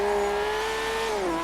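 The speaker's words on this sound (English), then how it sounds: "Listen to that turbo whistle." Nissan Skyline R32 race build in Forza Horizon 3, its engine droning loud and steady with a high turbo whistle riding on top, the pitch sliding down near the end, with no talk.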